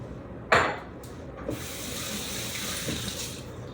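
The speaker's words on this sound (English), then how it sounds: "Rinse my hand off a bit because next comes the cheese." Tap water runs steadily into a kitchen sink as hands are rinsed mid-recipe, a sharp splash at the start settling into a continuous close hiss with no talking.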